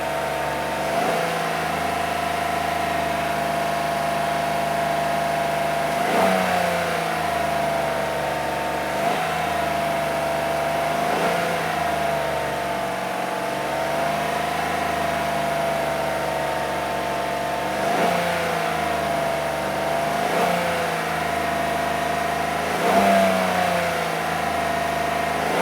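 A truck engine revs repeatedly in roughly six-second swells over a steady idle, its electric cooling fan faulty, with a persistent droning whine running through every rise; close and loud, with no talk.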